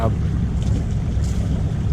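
Wake from a passing ferry slaps against a board on open water, a steady close rush of waves mixed with heavy wind buffeting the microphone throughout.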